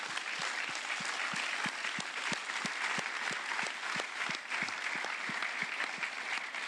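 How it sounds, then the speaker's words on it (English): An audience at a Vega C satellite launch event at Guiana Space Centre in French Guiana applauds the satellite team, with sustained, even clapping and sharper individual claps standing out through it. "I ask you to pay one big applause to these people who are sitting here."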